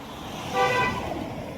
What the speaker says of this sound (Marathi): लय आज ट्रॅफिक आहे महाबळेश्वर मध्ये, फुल ट्रॅफिक आहे